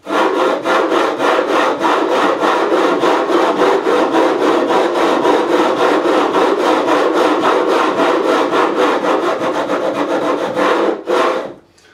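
A file rasps over the fret ends of a 1984 Greco Les Paul Custom EG-500 during a re-fret, bevelling them in long, even back-and-forth strokes. It is loud and close, keeps a steady rhythm for about eleven seconds, then stops.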